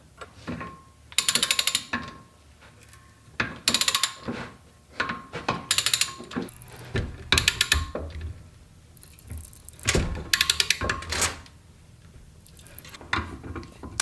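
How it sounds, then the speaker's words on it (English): A wrench turns a thread die on the axle of a Grom motorcycle, making bursts of ratcheting, grinding metal clicks that come in a loose rhythm every second or two, loud and close, with no talking. "I'm just using a wrench on either side"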